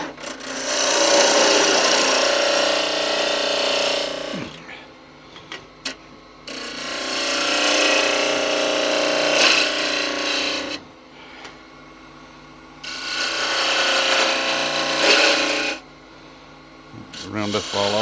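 A wooden spurtle spins on a lathe as a tool shapes its ball end: three long bursts of loud, close scraping and rasping wood-cutting, separated by short pauses filled with the machine's hum.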